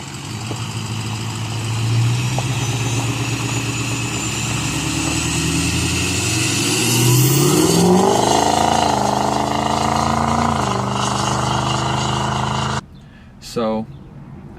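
Ford 6.0 Powerstroke diesel engine revving up, rising in pitch and loudness through the middle before falling back, close and strong, then cutting off abruptly near the end.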